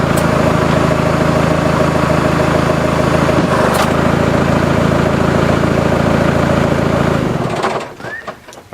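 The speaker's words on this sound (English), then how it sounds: "I will start up the tractor and I'll run this on the grapple on the front" A John Deere 5085M tractor engine runs steadily and loud at close range while the hydraulics cycle the front grapple, its droning hum holding constant before cutting off near the end.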